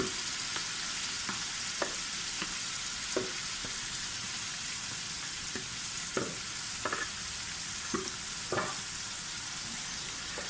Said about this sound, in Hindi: अब हम इसे अच्छे से तो रोस्ट करेंगे।